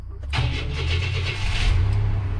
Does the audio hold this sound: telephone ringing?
no